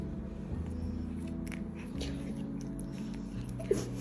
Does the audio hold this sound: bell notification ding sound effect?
no